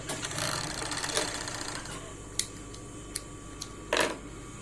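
Sewing machine stitching the repaired crotch seam of denim jeans, running in a steady buzzing burst for about two seconds, then a few sharp clicks and a short final run, close and alone.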